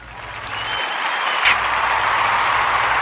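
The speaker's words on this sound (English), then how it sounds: "Round of applause for me, please." A burst of audience applause swells quickly and holds as a dense, steady wash of clapping, loud and close, with no talking over it.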